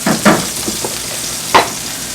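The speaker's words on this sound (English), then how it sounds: "And this is where I start tossing in butter." Mushrooms sizzle in olive oil as butter goes into the pan, loud close bursts of frying hiss with a couple of sharp stirring flares against a steady crackle.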